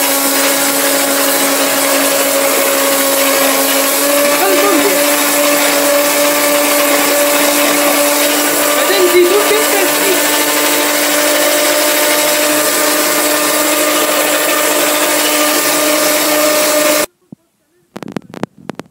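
An electric mixer beats marble cake batter with orange zest and lemon, a loud steady whir that runs unbroken before cutting off abruptly near the end, followed by a few brief knocks.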